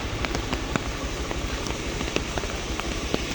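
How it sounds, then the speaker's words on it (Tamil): Heavy summer rain pouring down steadily over a road junction, a dense constant hiss with scattered sharper drops landing close by and no voices. "கடும் மழை."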